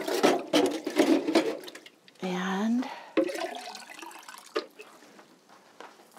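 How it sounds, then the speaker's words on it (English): Water is poured from a container while tending overwintered geraniums: a short, steady splashing stream lasting about a second, set between bursts of speech and rustling handling noises. "So let me get some water out of my container over here."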